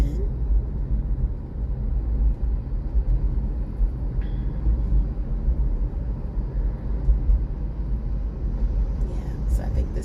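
Low, steady road rumble inside a moving Tesla Model 3 electric car, quiet and continuous, with a few faint clicks near the end.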